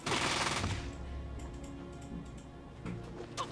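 Gunfire from a gun by a wall in Fallout 2, a loud opening burst of shots followed by scattered lighter clicks and pops, with another shot near the end.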